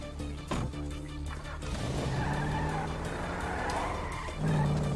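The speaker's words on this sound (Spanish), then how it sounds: "Ahí tenemos el carro." Car tires skid and squeal over a running engine in Grand Theft Auto V, a steady loud screech that swells near the end.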